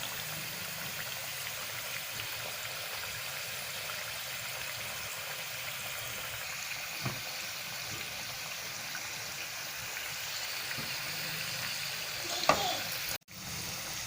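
Sabudana vadas deep-frying in hot oil, a soft, continuous sizzle and crackle heard close and steady throughout, with a brief clatter near the end.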